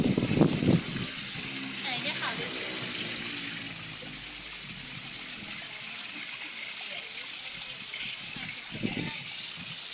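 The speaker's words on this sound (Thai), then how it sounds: "ตรงนี้มีน้ำตกด้วยนะ" A waterfall at Wat Pho temple in Bangkok: steady rushing water fills the whole stretch, a broad continuous splash and hiss, with a voice speaking briefly near the start.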